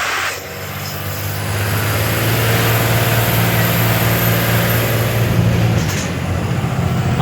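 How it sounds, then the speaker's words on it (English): Turbocharged engine of a bus converted into a racecar hauler accelerating, a loud steady low drone that builds and holds close up, with a hissing rush at the start and a brief whoosh near the end. "Just like you really hear that turbo kick in now."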